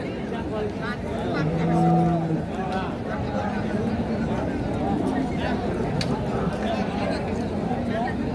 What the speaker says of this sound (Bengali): এটা হচ্ছে একটা শাহিওয়াল ষাঁড় গরু।